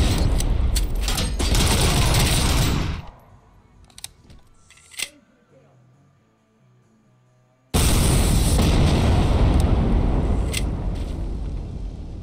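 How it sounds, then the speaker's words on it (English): A rocket explosion in the video game RoboCop: Rogue City hits with a loud, dense blast that abruptly cuts out into near silence with faint clicks, then the roar returns just as suddenly and sustains. "did we blow ourselves up or did someone shoot a rocket at us?"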